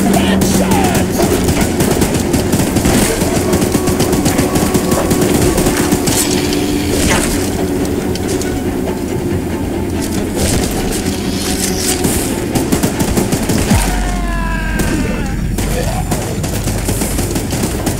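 A mounted gun fires in the Choo Choo Charles horror video game, a loud, relentless stream of rapid shots with booming impacts throughout, close and continuous.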